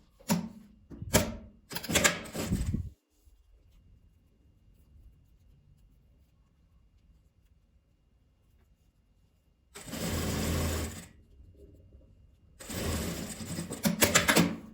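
A sewing machine stitches the sides of a multi-pocket fabric toiletry bag in several loud bursts of rapid mechanical stitching, separated by long quiet pauses.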